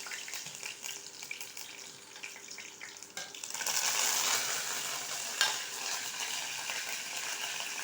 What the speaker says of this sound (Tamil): இப்போ கடுகு நல்லா பொரிஞ்சிச்சு ஃப்ரெண்ட்ஸ் அதில் காஞ்ச மிளகாவை போடணும்